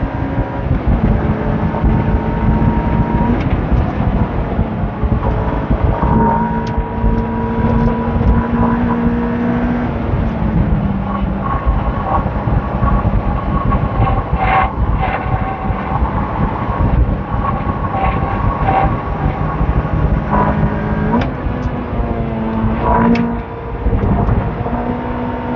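A car on a race circuit with its rear tyres at 3 bar drones with a loud, steady engine roar, its pitch rising and falling as the wheels slide through corners.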